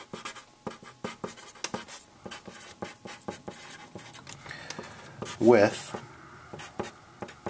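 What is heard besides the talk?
writing letters by hand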